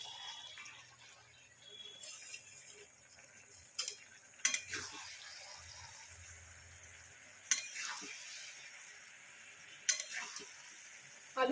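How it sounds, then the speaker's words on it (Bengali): Spinach chorchori with potatoes is stirred from the bottom of a pan over a raised flame, a soft continuous scraping with a low simmering sizzle and a few sharp clinks of the spoon against the metal. "এবার আমি এটাকে নিচে থেকে একদম নাড়াবো।"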